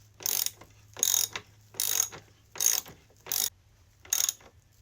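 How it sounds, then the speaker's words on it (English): A ratchet wrench tightens the axle nut on a Yozma IN10 electric pit bike, giving six quick, evenly spaced bursts of clicking, close and fairly loud. "then we can go ahead and screw the nut on and tighten that axle"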